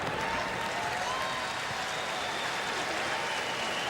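A US Open tennis crowd at a changeover during the Kirilenko–McHale match claps and cheers in a broad continuous roar, steady and undiminished throughout.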